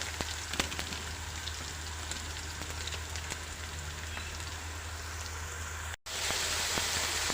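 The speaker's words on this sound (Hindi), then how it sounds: "अब इसको मैं अदरक और लहसुन को ज़रा सा भून लें ताकि इसमें इसकी खुशबू आ जाए।" Ginger and garlic fry in oil in a pan for chicken korma, giving a continuous soft crackling sizzle like light rain, steady and fairly quiet, with a brief cut near the end.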